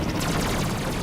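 Rapid automatic gunfire in the Ratchet and Clank video game, a dense burst of quick repeated shots with no break over about a second.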